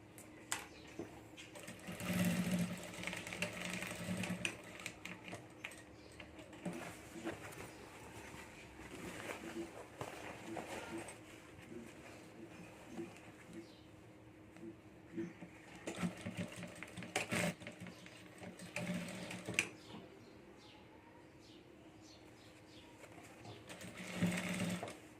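A sewing machine stitches a handmade bag at home in short, intermittent runs of fast rattling needle strokes with pauses between, while someone speaks over the work.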